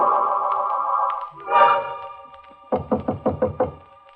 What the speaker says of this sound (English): He knocks on my door.